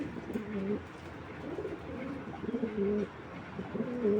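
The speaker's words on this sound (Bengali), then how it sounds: "নটটা ডাক দেখুন মাদিটা একদম সাথে সাথে মুস্তি করবে" Racing pigeons cooing back and forth, a male's rolling coo answered by a female, in several repeated low throaty bursts close by with quiet room ambience between.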